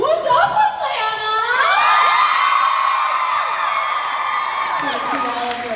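A live audience in Atlanta cheers loudly at a Friday opening event, with high whoops and shrieks layered over a roaring crowd that stays strong throughout.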